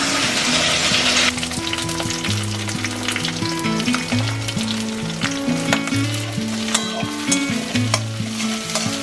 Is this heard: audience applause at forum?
no